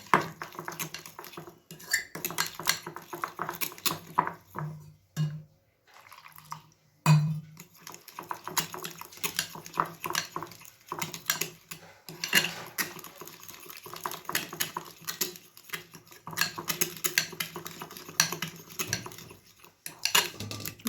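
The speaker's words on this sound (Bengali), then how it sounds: "ভালোভাবে এটাকে মেশাতে হবে যেন ময়দা আর কর্নফ্লাওয়ারে দানা দানা না থাকে।" A flour and cornflour batter being whisked in a bowl, with steady, busy clinking and scraping of the utensil against the bowl that runs almost unbroken, pausing only briefly partway through.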